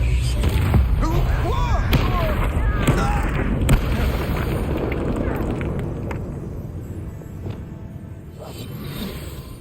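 Spell blasts in Hogwarts Legacy on PS5: several booming impacts and whooshes in the first half of a duel, loud and close, with a character voice calling out spell names over them before the action fades.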